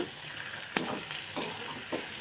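Fish oil added to fried eggplant crackles in the pan with a steady sizzle, and several sharp stirring scrapes and clatters break through it at irregular moments.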